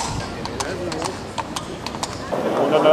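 Carriage horses walk on the cobbles of the Grand-Place, their hooves giving a crisp, irregular clip-clop close by while someone talks over it throughout.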